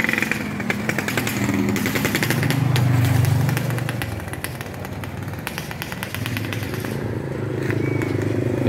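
A delivery motorcycle engine runs close by at a morning market, a steady buzzing drone that swells around the middle and settles back, continuous and moderately loud.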